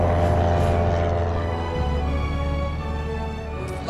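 A chartered airplane in the LEGO Jurassic World video game drones with a steady, loud propeller engine hum that holds throughout without pause.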